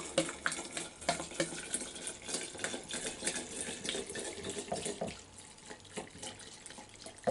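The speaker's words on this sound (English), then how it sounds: "So we're just gonna pour this right over top." Vodka is poured over poke root in a jar to make a tincture, a close, irregular splashing and trickling of liquid that gurgles on for several seconds before tapering off, with no talking.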